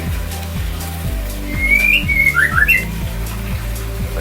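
Rocky, a Bahorok-type bird, gives a few short, bright whistles and chirps close by, over a steady, regular ticking in the background.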